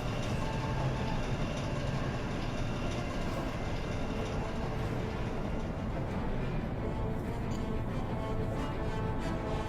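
A moving train in the Star Wars Shadows of the Empire video game gives a steady rumbling, rattling roll that holds at an even, moderate level for about ten seconds, with no voices.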